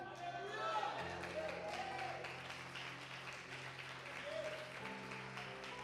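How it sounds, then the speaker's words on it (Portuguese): A church congregation applauding during a sermon, sustained clapping from a sizable crowd that swells briefly and stays steady under a low organ-like drone, with voices mixed in. "Pode aplaudir mais forte esse Deus, bem forte."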